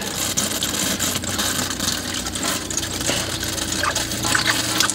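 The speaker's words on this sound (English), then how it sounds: "I hear the water pump slowing down, so it's got stuff in it." A boat's water pump running during winterizing, a steady motor whir with gushing water and a low rumbling drone throughout, close and continuous.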